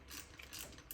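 A ratchet wrench turns the 12 mm fuel injector bolts on a Mazda RX8, giving a quiet, rapid run of close clicking that lasts under a second.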